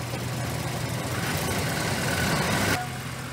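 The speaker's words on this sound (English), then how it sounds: "Okay, off brake. Give it a little bit of gas." The engine of a Ram 1500 4WD with an overheating problem is given a little gas in a garage, rising in a loud, steady rumble for nearly three seconds before dropping back to idle.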